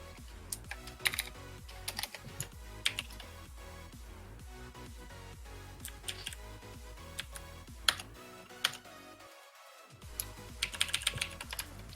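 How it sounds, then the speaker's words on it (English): Rapid keystrokes on a computer keyboard, including a Control S shortcut press, clicking in irregular bursts at close range in a quiet room, with a short pause before the typing resumes. "for some reason Control S is not working on my keyboard"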